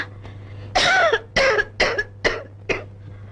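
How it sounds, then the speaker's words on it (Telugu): A series of about five loud, harsh coughs in quick bursts, close by, with a faint low hum underneath and no talking. "దగ్గు మరీ ఎక్కువగా ఉందమ్మా"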